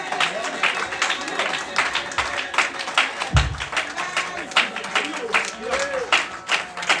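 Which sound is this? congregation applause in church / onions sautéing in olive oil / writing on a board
congregation applause in church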